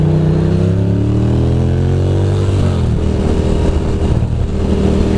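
A motorcycle rides through the Lincoln Tunnel with its engine hot, a loud steady drone with shifting pitch and a booming enclosed rumble throughout.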